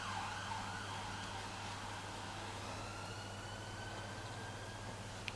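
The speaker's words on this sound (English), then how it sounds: "That's a loud siren." An ambulance siren wails faintly outside in the distance, a steady rising-and-falling tone under a low background hum, with no talking.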